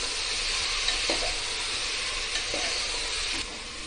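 Tomatoes and finely chopped green chillies sizzling and being stirred in a pan for fish stew, a steady close frying hiss with occasional scrapes of the spoon.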